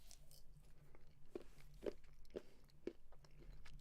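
Someone bites and chews crunchy Japanese sugar snacks, giving four or five sharp, close crunches spaced about half a second apart over quiet background hum.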